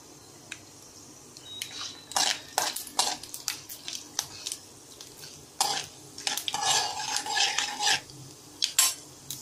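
Peanuts and tempering seeds fry in hot oil or ghee for semiya upma, with a steady low sizzle broken by repeated clinks and scrapes of a spoon stirring against the pan, close and fairly loud, with no talking.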